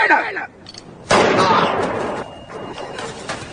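A single sharp, loud gunshot in a French film scene erupts close by and rings out with a decaying tail, with voices speaking before it.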